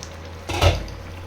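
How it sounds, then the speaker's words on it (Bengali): Lid lifted off a cooking pot of vegetarian aloo dum, a single close metallic clank and brief rattle over a low steady hum. "এবার ঢাকনাটা খুলি।"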